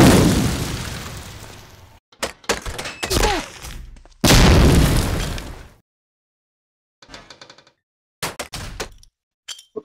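Grenade blasts in a shooter video game: two loud, booming explosions that ring out and fade, separated by scattered sharp pops and thuds, with silent gaps between bursts.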